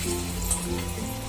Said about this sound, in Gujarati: લસણની ચટણી મૂકી દેવાની છે વઘારમાં